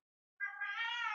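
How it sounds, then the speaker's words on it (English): A house cat lets out a single clear, drawn-out meow close by after a moment of silence, while carrying a toy into a room. "And that's my cat bringing a toy into the room."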